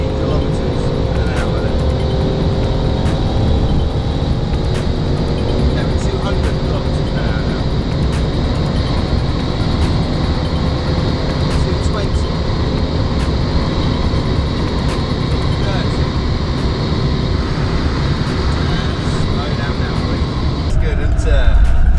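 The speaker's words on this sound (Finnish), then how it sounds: "Kiihdytyksessä suoralla kiitoradalla huomaa, että autossa on 510 hevosvoimaa." A Range Rover Sport with a 510-horsepower supercharged V8 accelerates down a straight runway, a loud sustained engine roar with a rising tone that builds and swells toward the end, continuous and close.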